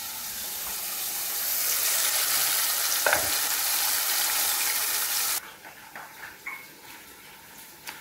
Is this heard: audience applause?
no